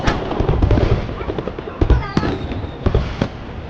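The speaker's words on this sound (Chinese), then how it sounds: "先看烟花吧" Fireworks bursting over a city at night in a Chinese period TV drama: a rapid run of loud bangs and crackles, a rising whistle, and sharp pops, with faint voices in places.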